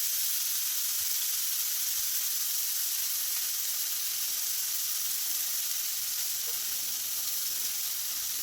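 A finely chopped medium onion fries with mustard seeds in a hot pan for Kerala-style mussel thoran, giving a steady close sizzle and hiss throughout, with no talking.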